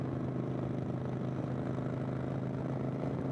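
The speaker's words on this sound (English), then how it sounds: "The exhaust is so loud." A 2015 Kawasaki Vulcan 900 Classic cruiser motorcycle underway, its exhaust giving a steady, loud, low droning rumble at constant throttle throughout, with no voices.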